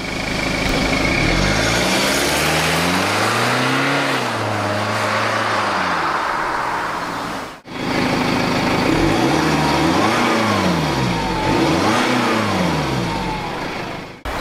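A BMW X1 xDrive23d drives past on a winding road, its engine revving up and down in two separate passes, loud and close, rising and falling in pitch.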